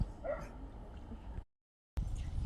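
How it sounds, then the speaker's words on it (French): An unhappy dog near a lakeside swimming spot lets out short yips and whimpers. The sound is faint and breaks off briefly into silence before it resumes. "Il n'est pas content, le chien"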